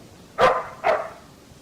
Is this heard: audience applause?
no